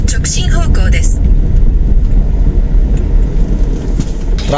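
Road traffic rumbles around a moving vehicle, a dense, steady low drone of engines and tires, with a short burst of talk at the start.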